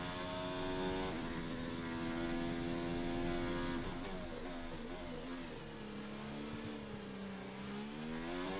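A Formula 2 race car engine in F1 2019 screams upward through the gears at a race start in Australia. The revving pitch climbs, drops at each shift and climbs again, loud and continuous.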